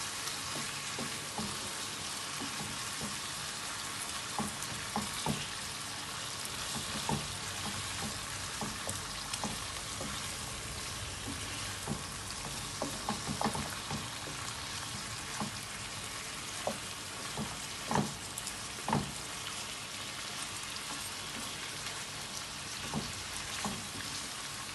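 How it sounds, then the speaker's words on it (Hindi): Masala spices fry steadily in oil for chicken karahi, giving a continuous dense sizzle with scattered sharp pops and crackles, close and even throughout, with no talking. "दो से 3 मिनट मैं इसमें मसालों को भूनूंगी।"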